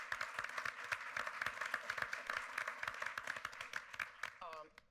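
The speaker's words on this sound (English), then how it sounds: "I want to give them a round of applause" Applause from a conference audience at a virtual reality and news event, dense steady clapping that fills the room, with a voice speaking briefly near the end as it fades.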